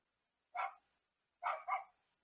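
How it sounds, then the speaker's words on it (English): A dog barks outside, one short bark followed after a pause by a quick double bark, clear and moderately near against silence. "He's outside barking."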